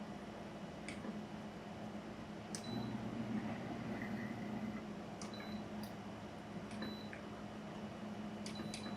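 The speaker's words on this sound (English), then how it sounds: "This will start the blender blending it down slowly and chop it up" Blender grinding fermented hot sauce ingredients, a steady low motor drone held for the whole stretch with a few faint high clicks on top.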